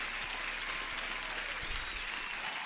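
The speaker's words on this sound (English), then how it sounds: "Applause to the man" A dense, even applause sound effect triggered as an alert during a live futures trading stream, a steady crowd clapping wash at moderate level that continues unchanged throughout.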